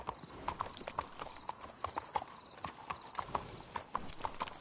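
Horses walking in Red Dead Redemption 2 give a steady, moderately close clip-clop of hooves, an irregular patter of overlapping footfalls with no talk.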